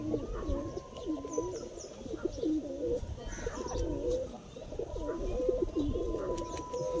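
Female pigeon of a fancy high-flier breed, kept by a pigeon fancier in Nagpur, cooing repeatedly in low, rolling phrases over steady background birdsong and ambient noise.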